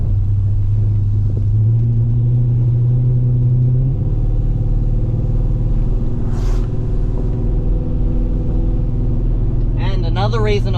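An LS1-powered Holden VN Commodore with a steering fault driving along, its engine a loud steady rumble that rises in pitch as it accelerates, with road noise and a brief voice near the end.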